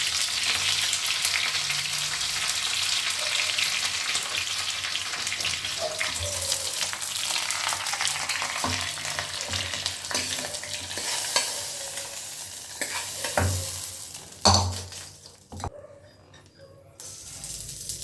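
Onion and curry leaves frying in hot tempering oil for a bottle gourd chutney, a loud, steady sizzle under stirring and scraping that fades and breaks up toward the end, with no voices.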